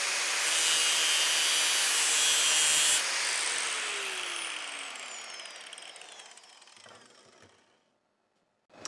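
A power saw cuts through a taped steel cable with a loud, harsh grinding that then winds down slowly as the blade spins to a stop, ending in near silence and a last small clunk.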